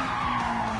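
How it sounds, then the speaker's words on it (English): Tyres screech in a short, continuous squeal as a car spins out in the racing game Gran Turismo, heard alone and fairly steady for under a second. "Oh, I spin out."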